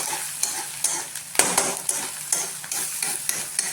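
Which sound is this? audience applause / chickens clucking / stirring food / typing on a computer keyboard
stirring food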